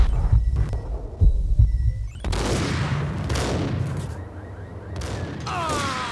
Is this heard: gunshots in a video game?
yes